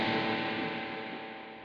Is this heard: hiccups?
no